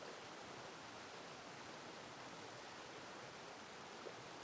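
River water rushes past in a steady, dense wash of flowing sound that stays even and unbroken throughout.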